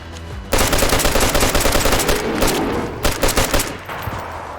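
AK rifle gunfire in the video game DayZ, loud rapid bursts of automatic shots in quick succession, with a short pause partway through before more firing.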